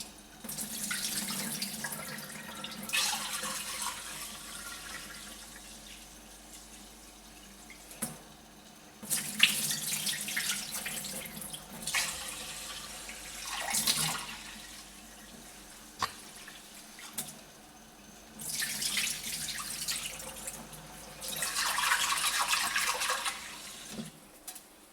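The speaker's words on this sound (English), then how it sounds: "Next, rinse the rice at least 3 to 4 times." Tap water running into a small saucepan as rice is rinsed, coming in several separate bursts of splashing flow with quieter gaps of handling between them.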